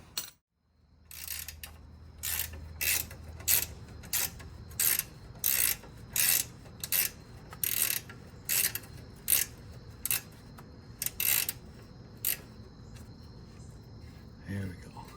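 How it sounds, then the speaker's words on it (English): Ratchet clicking in a steady run of sharp bursts while loosening a castle nut during a coilover install on a Lexus GX460, close and fairly loud over a low background hum. "If not, we can get a ratchet. Yeah, we'll get a ratchet."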